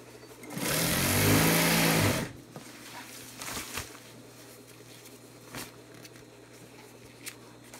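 A sewing machine runs in one steady burst of about a second and a half while hemming the edge of a backpacking tarp. It then stops, and quieter handling and rustling sounds follow.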